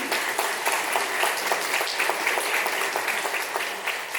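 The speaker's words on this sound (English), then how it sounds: "Can we give this panel a round of applause?" A city council hearing audience applauds a panel, many hands clapping in a dense, fairly loud patter that continues steadily for several seconds.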